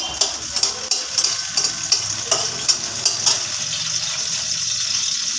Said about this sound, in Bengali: লঙ্কাটা একটু ভাজা ভাজা করব